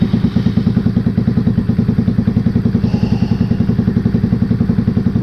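Motorcycle engine idling after a new piston was fitted, a steady, even thumping putter with a light mechanical clatter, close and loud throughout with no talking.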